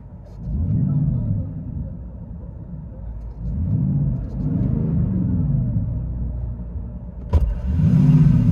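Cabin view of a 2021 Nissan Titan pickup with its 5.6L V8 breathing through a Flowmaster 40 Series exhaust: a deep, pulsing engine rumble swells and eases in waves, with a sharp knock near the end, and no talk.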